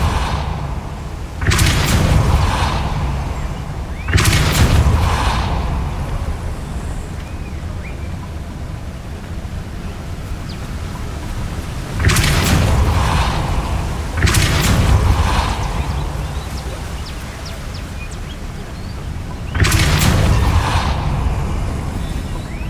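Confringo spell explosions in Hogwarts Legacy, five loud booming blasts in pairs and singles at irregular intervals, each with a fading rumble tail.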